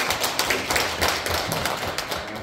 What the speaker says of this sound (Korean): 마지막 박수 부탁드립니다.